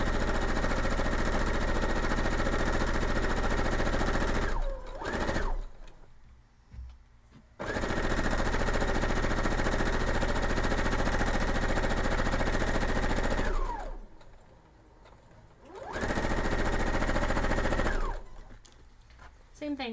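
A sewing machine stitches a quilted checkerboard in three long runs of steady, rapid, buzzing stitches, the first two lengthy and the last shorter, separated by brief quiet pauses, close and loud.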